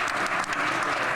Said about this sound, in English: Can we get one more round of applause for Ania, please?